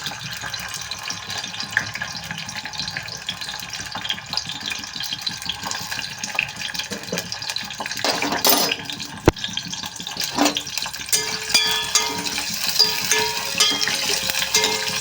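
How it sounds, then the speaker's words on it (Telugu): Garlic and green chillies fry in hot oil with a steady sizzling hiss throughout, punctuated by a few clinks and stirring scrapes near the middle, with no talking. "ఇవైతే రెండు నిమిషాలు ఇలా ఫ్రై చేసుకోవాలి ఫ్రై అవుతున్నాయి కదండి"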